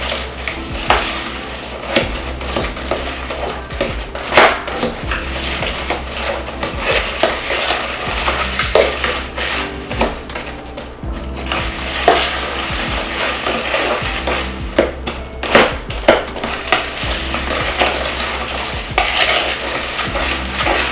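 A spoon stirs sugar into apple cider vinegar to dissolve it, making a continuous scraping, swirling clatter with repeated light clinks against the container, steady and close for about twenty seconds with no talking.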